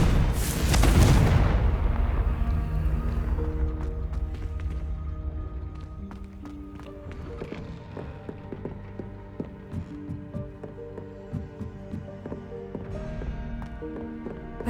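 Spell blasts from Bombarda and Confringo in the Hogwarts Legacy game: a loud booming burst at the start, then a run of sharp impacts and cracks over a steady musical score, with no voices.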